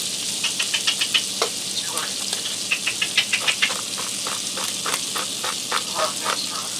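Butter and olive oil sizzle in a hot pan with seared scallops, a steady hiss dotted with quick bursts of sharp spattering pops, heard up close and without voices.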